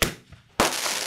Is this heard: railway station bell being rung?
no